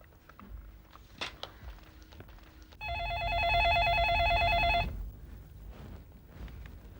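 A telephone rings once with a bright, buzzy electronic tone that lasts about two seconds. Quiet rustling and small knocks come before and after it in an indoor room.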